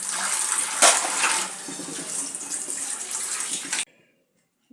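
Tap water runs steadily into a kitchen sink while dishes are washed, a close, continuous splashing rush that stops abruptly near the end, leaving near silence.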